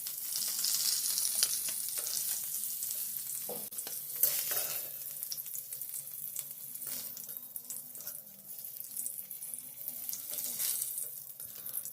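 Cauliflower florets frying and being stirred in oil in a wok, a steady close sizzle with scraping stir strokes and occasional clinks, no voices.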